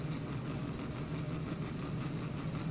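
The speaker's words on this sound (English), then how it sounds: "I'm going to turn off Roblox because I'm getting tired of hearing idling from engines" Vehicle engines idle in the Roblox game ERA - St. Petersburg, a steady low rumbling drone that stays constant and moderately loud throughout, with no talking.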